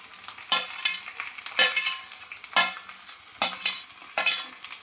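Fenugreek and spices frying in oil are stirred in brisk, regular scraping strokes roughly once a second, each stroke a bright rasp over a light sizzle, close and clear.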